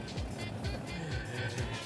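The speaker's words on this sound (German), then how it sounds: "Wo Cindy feststeckt, fährt Matthias jetzt einfach vorbei" Off-road SUV driving past another stuck vehicle in an off-road challenge, an engine whirring and revving with repeated rising sweeps, mid-distance and fairly faint, with faint voices mixed in.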